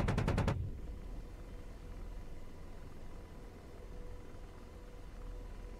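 An AH-64D Apache's 30mm chain gun fires in the DCS World flight simulator: a short, loud, rapid burst of about five heavy rounds, then a steady rotor and engine hum fills the rest.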